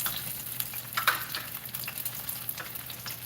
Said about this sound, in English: So I'm frying them.